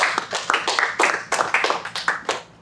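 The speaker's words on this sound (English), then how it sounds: "let's give a round of applause for our man Ryan." A small group claps during a strength-and-conditioning workshop for grapplers, producing a dozen or so crisp, close, separate hand claps in a quick, uneven rhythm that fades at the end.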